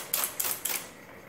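A Friden Flexowriter typewriter keyboard mechanism gives three sharp mechanical clacks in quick succession, close and loud, then a fading hum of the machine.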